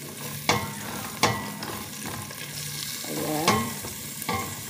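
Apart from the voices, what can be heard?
garlic sautéing in a pan for beef nilaga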